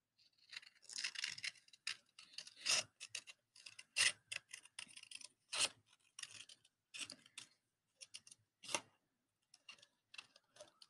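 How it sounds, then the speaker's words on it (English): Scissors snip through paper to cut out a large letter C for a car craft, making a long run of quick, crisp cuts in irregular bursts with short pauses, close and fairly quiet, with no talking. "And we cut it out"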